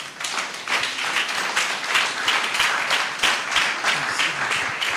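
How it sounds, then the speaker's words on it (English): Audience applause after a speech at a business summit, dense continuous clapping from many hands, loud and close, lasting throughout. "Then why don't you give her a round of applause?"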